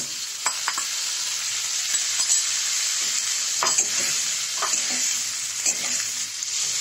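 Ivy gourd and potato fry in a pan, a dense, steady close sizzle with occasional soft scrapes and clicks of a stirring spatula, and no voices.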